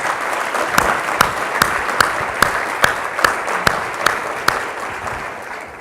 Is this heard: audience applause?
yes